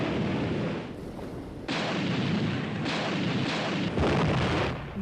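Great explosions erupt in the sea near a warship, throwing up columns of spray and jarring the vessel. A dense, continuous roar of blasts swells in several waves, with heavy booming onsets and no voices.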